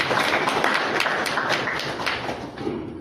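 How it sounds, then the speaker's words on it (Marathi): Audience applause at a radio program event, a dense run of claps that starts loud and slowly thins toward the end, with no talk over it. "मला वाटतं टाळ्या झाल्या पाहिजे तेव्हा"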